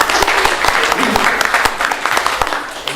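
Audience applause at a university debate on masculinity at UCL, a dense steady clatter of many hands clapping throughout, fairly loud and close, welcoming a psychology lecturer introduced on stage.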